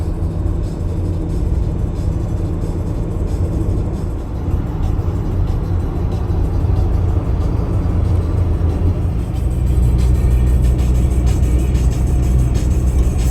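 Cabin of a Ford Transit Jumbo extra-long-wheelbase camper van coasting downhill behind a lorry, a continuous broadband road and wind roar with low engine rumble that grows louder near the end.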